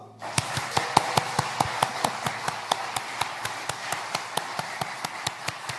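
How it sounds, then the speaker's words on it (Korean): A church congregation claps in a slow, even rhythm, each hand clap distinct and fairly close, continuing steadily with no talk over it. "박수."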